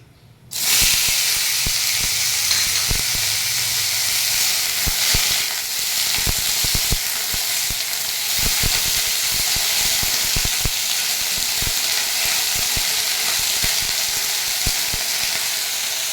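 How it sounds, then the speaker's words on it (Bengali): Bitter gourd (karela) dropped into hot oil in a pan, starting with a sudden, loud, continuous sizzle and hiss that holds steady throughout, with small pops and crackles over it. "তেলটা গরম হয়ে গেছে, এখন করলাটা দিয়ে দিচ্ছি।"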